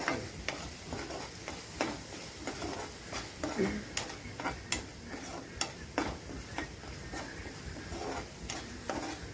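Soybean masala stirred and frying in oil in a pan, a soft continuous sizzle with irregular scraping and clicking of the spoon against the pan, fairly quiet, with a voice talking over it.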